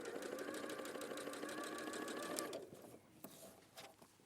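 Domestic sewing machine stitching fabric, a steady rapid whirring hum running for about two and a half seconds before stopping, followed by a few light handling clicks and taps.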